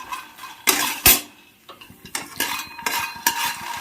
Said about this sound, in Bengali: আমি 2 মিনিট মতো নেড়ে নিলাম।